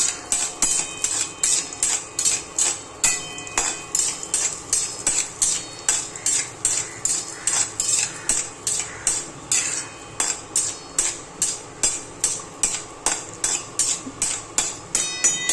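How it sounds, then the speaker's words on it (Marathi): Cashews roasting in ghee in a pan for carrot halwa are stirred with a utensil. Regular scraping clinks come close and clear, roughly two per second, over a faint sizzle. "आणि आता हे काजू भाजून घ्यायचे."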